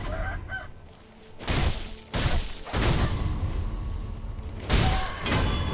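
Chickens in the video game Sekiro clucking and squawking loudly in repeated bursts over a busy game soundscape with thumps, with no talk.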